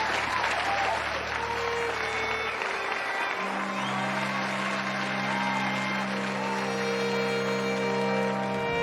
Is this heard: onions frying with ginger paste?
no